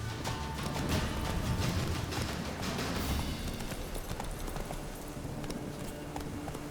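Roach, the horse in The Witcher 3, gallops with a steady, close clip-clop of hooves over a continuous rumbling game soundscape.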